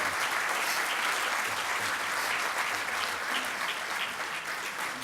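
Steady applause from an audience at a business hall of fame ceremony, dense clapping held at an even level throughout.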